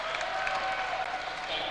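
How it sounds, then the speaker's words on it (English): A volleyball crowd in an arena roars and applauds after a kill, a dense, steady wash of cheering heard under a commentator's voice. "And that gets a rise out of this crowd."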